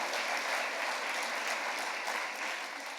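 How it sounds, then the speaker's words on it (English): Audience applause at a live literary award conversation event, a dense steady clapping from a crowd that holds at an even level for the full few seconds. "let's please give ourselves a big round of applause for being here"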